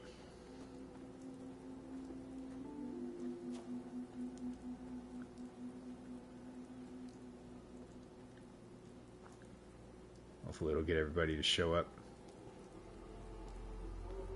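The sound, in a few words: rain in the video game Fallout 4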